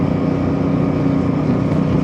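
A Chinese-made motorcycle engine runs at a steady loud idle right after starting, a dense continuous rumble close by with no talk over it.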